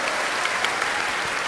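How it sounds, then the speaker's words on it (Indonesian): An audience claps for Maryam in a short burst of even, dense applause at an event, with no talk over it. "Tepuk tangan buat Maryam."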